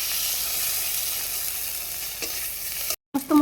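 Spice paste of ginger and onion with chilli, turmeric, mustard and cumin sizzles and fries steadily in a pan with occasional stirring scrapes, close and continuous, cutting off briefly near the end before the frying resumes.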